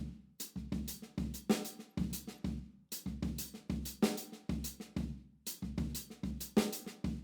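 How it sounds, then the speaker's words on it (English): A linear drum groove on a kit plays steady interlocking kick, snare and hi-hat hits with a repeating gap at the start of each bar. The looping pattern is close and clear, with no voices over it. "Like if you put the eighth rest on the of beat 1, you miss out on the backbeat."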